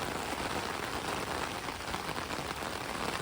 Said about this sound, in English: started pouring rain